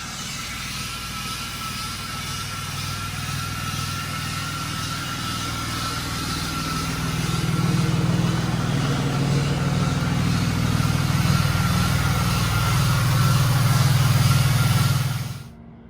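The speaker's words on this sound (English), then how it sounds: "Extremely loud. Probably one of the last cold starts to the season." Loud vehicle engine after a cold start, idling steadily outdoors in the open; a continuous low rumble that swells louder midway, then cuts off abruptly at the end, with no talking.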